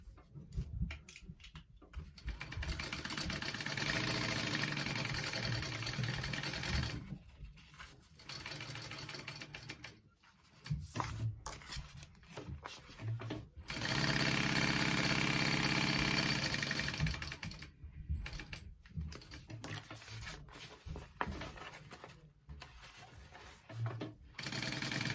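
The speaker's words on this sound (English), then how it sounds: "just sew along all the edges" A sewing machine stitches along the edges of a fabric shoulder bag, its fast mechanical whir running in long close bursts that stop and restart between short pauses.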